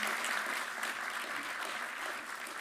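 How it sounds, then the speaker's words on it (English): Steady applause from an audience filling a performing arts hall in Portland, continuous and fairly loud for the whole stretch without a break. "Let's give a round of applause to all of the"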